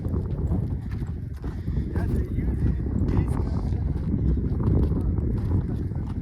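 Horse hooves clip-clop steadily at a photo stop for horseback pictures in Monument Valley on the Navajo Nation, under nearby talk and outdoor noise.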